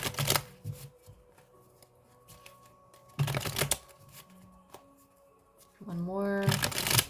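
Tarot cards being shuffled by hand in repeated quick riffling bursts, close and crisp, with quieter pauses between and light handling sounds.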